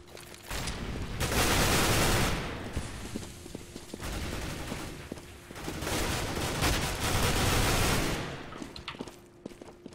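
Pistol fire in a competitive MLG video game match, bursts of shots in quick clusters over a continuous wash of game noise, loud and close, with no speech over it.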